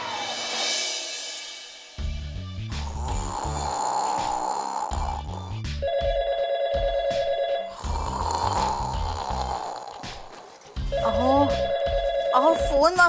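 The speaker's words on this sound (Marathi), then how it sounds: "अहो फोन वाजतोय, बघा कुठे आहे तो." A telephone bell rings in repeated bursts, interleaved with loud, rasping snoring, indoors at close range. A voice is also present among the sounds.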